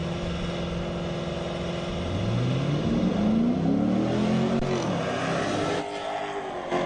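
Drag race cars roar off the line on a quarter-mile dragway at an ET finals event, engines climbing in pitch as they accelerate, loud and steady, then fading slightly as they pull away down the strip.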